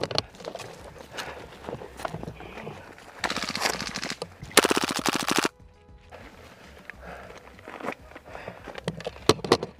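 Airsoft machine gun firing outdoors during a skirmish game: rapid bursts of clattering shots, with a dense, louder burst in the middle, plus scattered footsteps and field noise around them.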